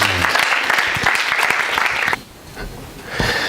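A church congregation applauds in a hall, with dense clapping for about two seconds that cuts off, then a brief quieter stretch and a short burst of noise at the end.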